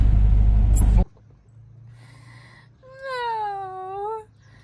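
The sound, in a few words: cat meowing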